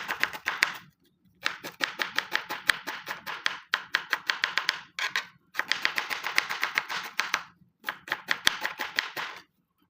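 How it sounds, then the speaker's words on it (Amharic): Knife chopping onions on a board for Ethiopian shiro, a fast steady run of crisp close taps in bursts with short pauses between, no talking. "አሁን እንግዲህ እዚህ ጋር ሽንኩርቴን እከትፋለሁ ማለት ነው።"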